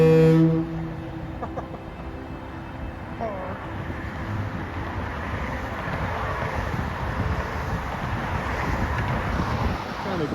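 A deep foghorn blast sounds near the start out in the fog on a ride across the Golden Gate, then fades under steady, rushing wind noise with a voice briefly heard.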